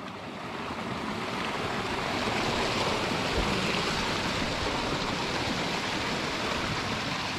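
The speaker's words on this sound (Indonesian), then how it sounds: "Air mengalir di mana-mana." Steady rushing water flows continuously, a dense broad roar of a stream that stays even throughout without any voices.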